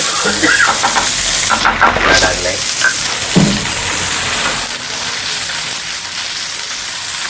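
Loud, continuous sizzling and hissing of Bombay duck (bombil) fish frying in oil for a chutney, with a brief stir or clatter partway through and no break in the sizzle.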